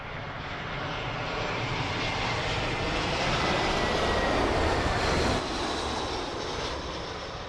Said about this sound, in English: British Airways A320 from Milan.